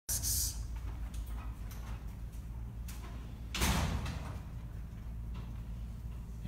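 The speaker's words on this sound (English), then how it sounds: "And there's my assistant Anna coming in the door." A door opens as someone enters an indoor sculpting studio with display cases, a brief rush of noise midway over steady room hum, with an earlier short burst at the start.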